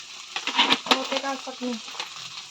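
Food fries in a pan for an Assamese elephant-apple and jaggery fry, with stirring scrapes and crackles mixed with a tonal voice-like sound throughout.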